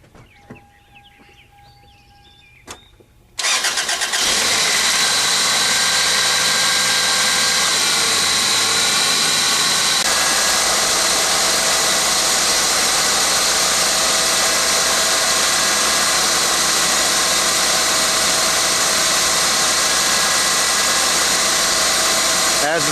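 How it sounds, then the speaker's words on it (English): A car engine starts and idles with the air conditioner blowing on maximum, giving a loud, steady roar and whine that runs unbroken after a quieter opening with clicks and faint background noise. "Now the next step will be start the engine, turn the air conditioner on maximum"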